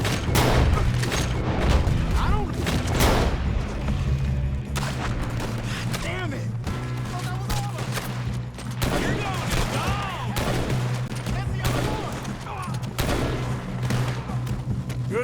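Continuous loud gunfire from a shootout in the Western video game Red Dead Redemption 2, with repeated shots and booming reports, while characters talk amid the battle.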